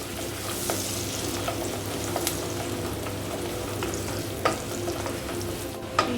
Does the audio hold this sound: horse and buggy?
no